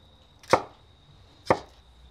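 Two separate knife cuts through a log of compound butter, spaced about a second apart, each a crisp, close thunk against a board in an otherwise quiet room.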